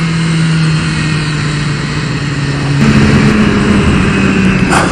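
A 2015 BMW S 1000 RR sport motorcycle engine runs loud and close, holding a steady droning tone that steps up in pitch partway through as it revs harder.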